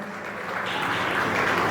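Applause from a crowd at a community appreciation event, a dense wash of clapping that swells and grows fuller toward the end, with no voices on top.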